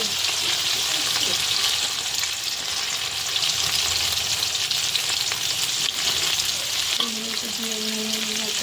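Food deep-frying in oil in a kadai gives a continuous, close hissing sizzle with faint bubbling and stirring, and a brief low metallic tone rings near the end.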